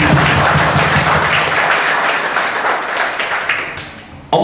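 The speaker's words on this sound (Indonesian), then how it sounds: "Tepuk tangan untuk kita semuanya." A crowd at the opening of an Islamic arts and culture training event bursts into loud, dense applause, a thick continuous roar of clapping that slowly thins before cutting off abruptly.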